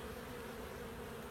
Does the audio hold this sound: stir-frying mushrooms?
no